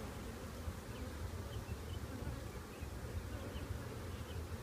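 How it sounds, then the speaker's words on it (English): A dense, steady buzz of many honey bees swarming close by around a hive box, a continuous low drone with no pauses and no voices. "Bees are pretty calm."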